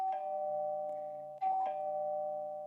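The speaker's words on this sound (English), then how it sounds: "So if you want to just do a kind of ding dong." A clear two-tone ding-dong chime from a video doorbell rings out, sustained and ringing, with a second ding-dong struck partway through, alone and fairly loud.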